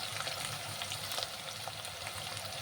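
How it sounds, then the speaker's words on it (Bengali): Chopped onions frying in a covered pan over a medium gas flame, giving a steady, close crackling sizzle with faint pops and no talking. "এগুলো একটু ভাজা ভাজা হবে পেঁয়াজগুলো, ততক্ষণ গ্যাসটা মিডিয়ামে করে রেখে দেবো"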